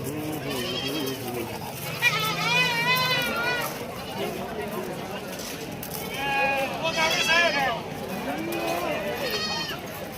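Goats for sale at a busy livestock market in Shirur, Maharashtra, bleat repeatedly from close by, several wavering calls overlapping, while people talk throughout.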